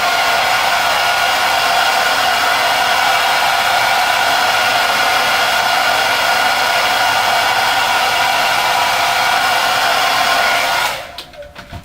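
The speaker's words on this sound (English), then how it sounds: "You can give it a bit of a run with a hairdryer." A hair dryer blows with a steady, loud airy roar for about eleven seconds, then switches off and quickly falls away near the end.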